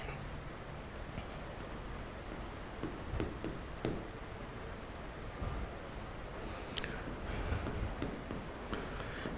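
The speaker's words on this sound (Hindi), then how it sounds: "वो मैं यहाँ पर नोट डाल के ये बात आपको लिख देता हूँ" A pen scratches and taps faintly across paper as notes are written by hand, soft, irregular strokes with a few sharper ticks over a low hiss, no voices.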